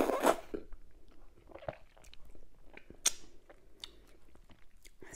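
Close, soft chewing of fufu with ogbono soup and mackerel fish, with moist squishy bites and occasional sharper crunchy clicks spaced irregularly in a quiet setting.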